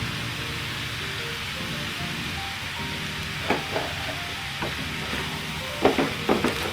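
Vegetable fried rice sautéing in a pan gives a steady broadband sizzle throughout, with scattered scraping and stirring clicks growing more frequent toward the end, with no voices.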